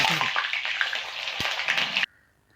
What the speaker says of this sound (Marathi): पाणी सगळं तेलामध्ये पडलं आणि तेलामध्ये पाणी पडल्यामुळे मला थोडंसं पोळलं